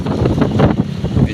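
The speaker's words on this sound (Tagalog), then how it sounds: "Mahangin dito." Strong wind buffets the microphone outdoors at a public market terminal in Iloilo during stormy, overcast weather, a steady, loud, low rumble with gusty swells throughout.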